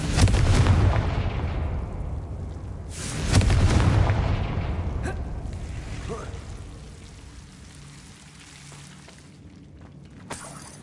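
Blasting-spell explosions in a Harry Potter video game: two big booming bursts a few seconds apart, each trailing into a rumbling decay, followed by quieter ambience and a small pop near the end.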